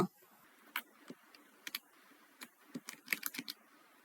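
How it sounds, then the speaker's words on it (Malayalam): A name being typed on a computer keyboard: scattered, irregular key clicks, single taps and short quick runs, heard close against a quiet room. "ഈ പേര് ടൈപ്പ് ചെയ്ത് കൊടുക്കുക"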